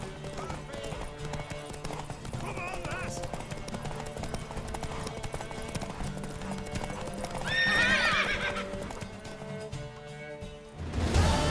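Horse hooves clip-clopping in The Witcher 3 video game, a steady rhythmic trot under game ambience and voices, with a horse whinnying midway.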